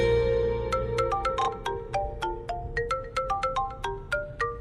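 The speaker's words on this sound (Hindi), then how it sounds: "उसका फोन है। अम्मी का फोन है।" A mobile phone rings with a bright, repeating electronic melody of quick, clear tonal notes, steady and fairly close, with no voices over it.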